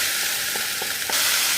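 Onions frying and sizzling in a pot for a chickpea fish stew, a steady close hiss with a few soft stirring knocks and a louder surge of sizzle near the end.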